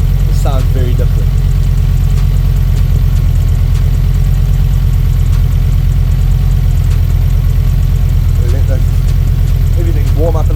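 A rebuilt XR5 turbo car engine idles steadily with a deep, even low rumble throughout, while a voice talks intermittently over it.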